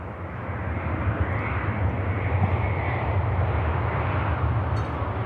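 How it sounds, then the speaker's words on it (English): An IndiGo Boeing 787 Dreamliner touches down on runway 23R at Manchester Airport, its engines producing a broad, steady roar that holds loud and near without pause. "Indigo Dreamliner greasing the runway there. Really smooth landing on 2-3 right."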